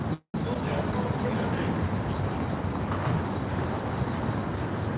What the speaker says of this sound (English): We can even hear the big wind.